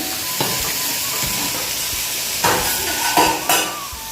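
Okra (bhindi) frying in a pan in a home kitchen gives a steady close sizzle and hiss, with a few louder spattering bursts and utensil clinks toward the end.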